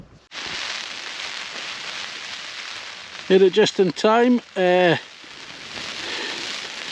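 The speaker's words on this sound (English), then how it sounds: "rain's come on quite heavy now." Heavy rain drums steadily on a Naturehike VIK 1 tent pitched on a hillside, a dense close hiss that runs throughout as someone talks briefly in the middle.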